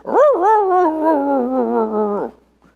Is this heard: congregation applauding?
no